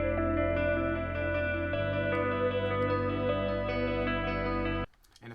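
An FL Studio beat plays with its full low end intact, a steady loud electronic loop with deep bass under bright layered synth tones. It stops abruptly near the end.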